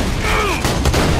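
Gunfire from an explosive weapon lobbing small grenade-like rounds in the video game Borderlands 2, a dense loud burst with whistling tones over constant game noise.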